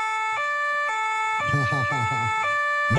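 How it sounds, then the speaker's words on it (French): A two-tone emergency siren wails, alternating high and low pitches in a steady cycle, loud and close, with someone talking over part of it. "C'est une sirène, je ne sais pas si c'est vraiment une sirène de police,"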